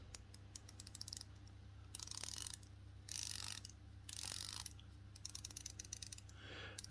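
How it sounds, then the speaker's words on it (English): Orient Star 200m diver watch's 120-click unidirectional bezel turned in several bursts of quick, faint ratcheting clicks, separated by short pauses, close up and quiet with no talking. "It's a 120 click unidirectional bezel"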